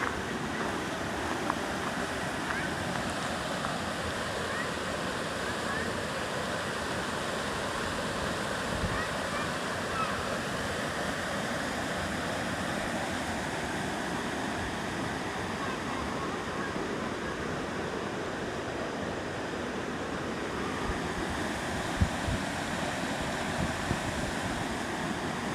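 Turner Falls waterfall near Davis, Oklahoma roars as a steady broadband rush of falling water, constant and fairly close, with light wind buffeting and faint voices now and then.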